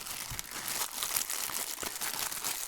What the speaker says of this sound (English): so bubble wrap, nice